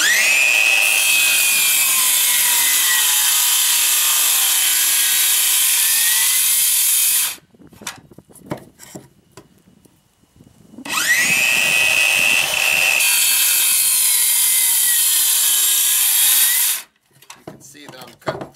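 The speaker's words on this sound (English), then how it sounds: "See that I'm cutting through a full-size 4x4. Just cuts right through that stuff." A Makita BSS610 18-volt cordless 6-1/2-inch circular saw cuts through a full-size 4x4 in two long, loud passes of steady high-pitched blade whine, each lasting several seconds and separated by short quiet gaps with faint handling clatter.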